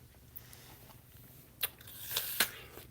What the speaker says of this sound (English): Good crunchy apples, though.